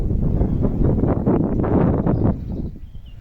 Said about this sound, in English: The wind's getting stronger now.